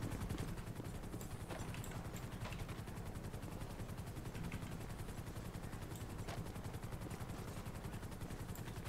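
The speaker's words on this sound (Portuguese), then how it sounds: "O helicóptero Águia vai dar um suporte pra gente aí" A police helicopter's rotor in GTA 5 thumps steadily and continuously, a low rhythmic chop with faint sharp pops scattered through it.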